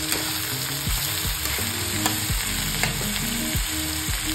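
Garlic sizzles steadily in a hot pan for a Marathi-style drumstick curry masala, with a crackling fry and occasional clinks of stirring.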